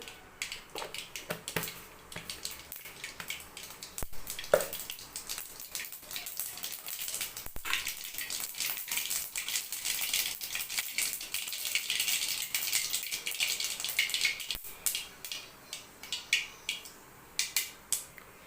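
Mustard seeds, half a spoon, dropped into a little heated oil in a pan, crackling and popping steadily for several seconds with no talk over it.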